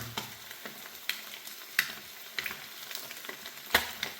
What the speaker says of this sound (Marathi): सो अशा पद्धतीने फ्राय करतोय आपण अंडी